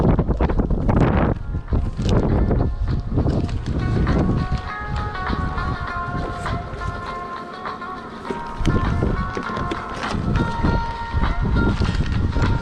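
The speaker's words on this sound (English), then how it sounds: "Terrible windy." Strong wind buffets the microphone in loud, continuous gusts beside beehives, with rumbling bursts and a brief lull in the middle.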